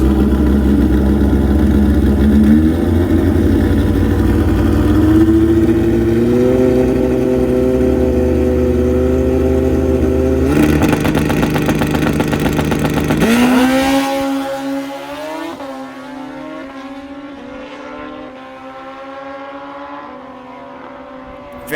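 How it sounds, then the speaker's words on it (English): A brand new stretched Suzuki Hayabusa lines up against a CB motorcycle in a bracket drag race; a loud engine revs and climbs steadily in pitch through gear changes, then the roar fades as the bikes pull away. "The CB's got his work cut out for him alongside this brand new fast stretched Hayabusa."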